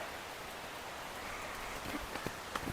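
Steady rain falls in Goa during an unseasonal downpour, a continuous dense hiss with a few sharper drips near the end, moderately quiet and with no voices.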